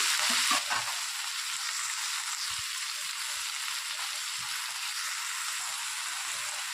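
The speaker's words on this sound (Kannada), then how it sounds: "ನುಗ್ಗೆ ಸೊಪ್ಪು ಸೇರಿಸ್ಕೊಂಡು ಇದನ್ನು ಚೆನ್ನಾಗಿ ನಾವು ಫ್ರೈ ಮಾಡ್ಕೋಬೇಕಾಗತ್ತೆ" Drumstick leaves stir-frying in a pan give a steady, close sizzle with a few soft scrapes and knocks of stirring near the start, with no talk over it.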